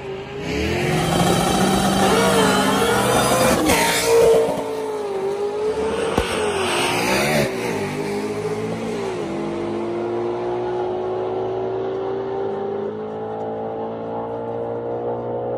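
A stock-motor Cobra fitted with a Whipple supercharger makes a drag strip pass, its engine screaming loud through rising gear shifts before easing off and fading to a lower drone as the car coasts down the track.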